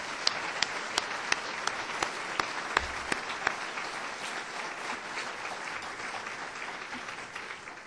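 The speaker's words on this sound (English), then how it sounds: "that group deserves a round of applause" An audience at a university system announcement event claps in a dense, sustained round of applause, a few sharp individual claps standing out early before the sound settles into an even patter at moderate distance.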